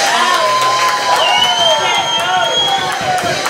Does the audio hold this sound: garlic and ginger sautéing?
no